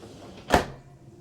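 A freezer drawer on a large slide in the kitchen of a Puma 229RB travel trailer slides with a single brief swish of rolling movement, close and alone.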